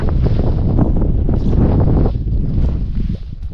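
Strong wind buffets the microphone in a loud, continuous low rumble that surges and eases slightly, with no voices.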